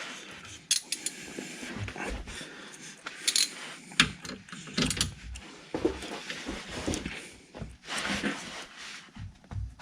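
Metal tools clink and clatter while someone works loose a stubborn, overtightened fastener on a Nissan R32 Skyline GTS-t with an RB20DET engine, with irregular close knocks and scrapes and no talking.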